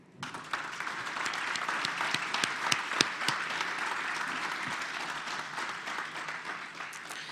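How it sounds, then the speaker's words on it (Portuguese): An audience at a technology talk breaks into sustained applause, a dense, even wash of many hands clapping that carries on steadily throughout, with a few sharper individual claps standing out. "eu queria uma grande salva de palmas"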